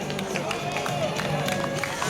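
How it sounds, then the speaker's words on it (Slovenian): Spectators applaud a runner at the Franja marathon in Domžale with scattered, uneven claps over a low crowd murmur. An announcer talks over them throughout. "Še en aplavz."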